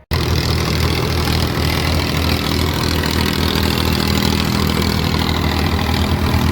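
A tractor engine idles steadily and loudly close by on a farm field at sowing time, a constant low rumble running through the whole stretch with no talk.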